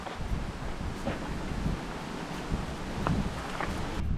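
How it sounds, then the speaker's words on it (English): Distant thunder rumbles low and faint in Zion National Park, mixed with gusting wind buffeting the microphone. "Thunder? Thunder."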